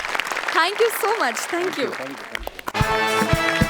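Studio audience applause on the Marathi comedy stage show Maharashtrachi HasyaJatra, breaking out loudly in the last second after a voice speaks briefly, with music-like tones mixed in.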